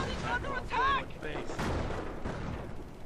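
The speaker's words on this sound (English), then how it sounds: "and now mortar shells are going to come down." Mortar shells crash down in a World War II squad battle game near a church under fire, dense rumbling blasts and crackling gunfire over a steady noisy battlefield bed, with a person talking over the action.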